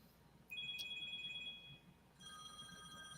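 A phone rings with a steady electronic ringtone, two bursts of tonal beeping separated by a short pause, fairly quiet over low background hum with no talking.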